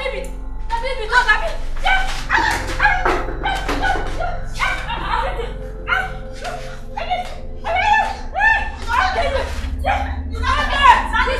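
A man mimics a mad dog's barking with rough, voiced yaps and whimpery bursts in quick irregular runs, close and loud, mixed with his own talk.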